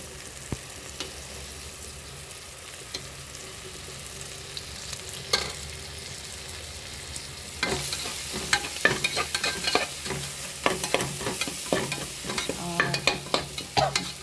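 Curry leaves sizzle and crackle as they hit hot oil in a pan, a soft frying hiss that turns sharper with bursts of spattering and occasional stirring, no voices over it.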